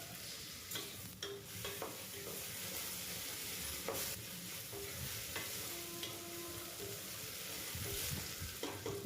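Vegetables fry with ginger garlic paste in a pan for a vegetable biryani, giving a continuous soft sizzle with scattered stirring scrapes and clicks and no talking.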